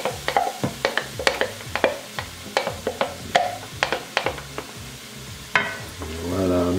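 Tomatoes stirred into a pan with chicken breast, a spoon scraping and knocking in quick repeated strokes over a steady sizzle, with a louder clatter near the end as more goes in.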